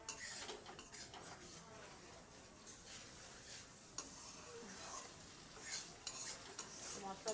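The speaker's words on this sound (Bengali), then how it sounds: "এইভাবে নাড়াচাড়া করে মশলাটা ভালো করে কষিয়ে নেব" A spice masala for a Bengali stingray curry, loosened with a little water, is stirred and sautéed in a pan, very faint soft sizzling with scraping and light utensil clinks scattered throughout.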